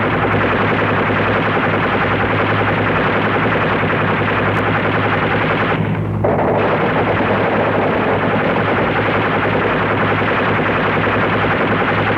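Automatic weapons fire rattles in a dense, continuous barrage during a Vietnam War riverine boat fire run along a beach, loud and unbroken, with the constant drone of boat engines underneath.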